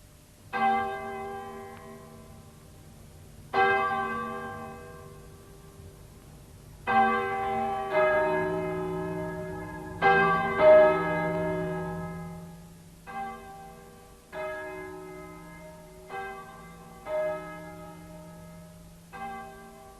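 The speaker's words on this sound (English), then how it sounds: "I wonder why the church bells are ringing." Church bells ring out in slow, uneven strikes, each clang leaving a long, shimmering decay that overlaps the next, fairly close and loud.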